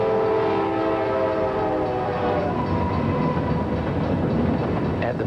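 A train rushes past close and loud, its horn sounding at the start and then giving way to a steady rumble of rail noise with no speech.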